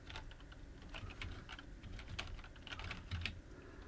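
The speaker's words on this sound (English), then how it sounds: "I'm going to type plays in line" Quiet, steady clatter of keys on a computer keyboard, with rapid uneven taps and a few heavier strokes, close by and free of speech.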